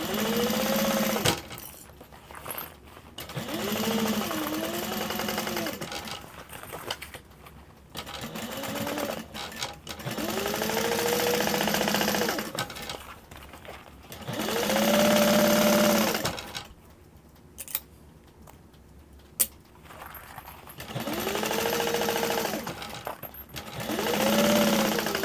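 A sewing machine stitches around the lining of a lined mini backpack in repeated close bursts of rapid mechanical whirring, each run rising and holding, with pauses and small handling noises between them.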